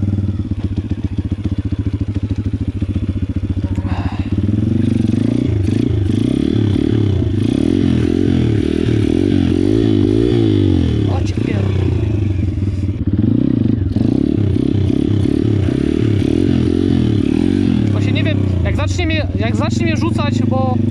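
A Pitgang 140XD pit bike revs loudly up close while riding on one wheel, its engine note rising and falling in wavering surges with rattles and scrapes, a voice talking over it.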